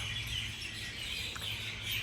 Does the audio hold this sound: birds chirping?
yes